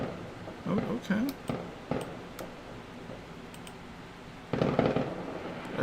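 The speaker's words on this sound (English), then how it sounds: "they're making that firework." Fireworks go off in the distance as a series of sharp pops and crackles with a loose rhythm. The bursts come in clusters at the start and near the end, over steady background noise and some talk.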